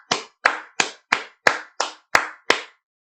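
Eight sharp hand claps in an even rhythm, close and loud, each with a brief decay and clean silence between, marking the Teruah shofar call with hands.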